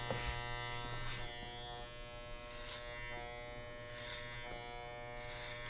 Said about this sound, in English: Riding that clipper, blending the front hair into the side hair